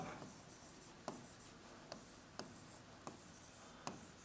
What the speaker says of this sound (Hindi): मैं एक क्वेश्चन लिखता हूँ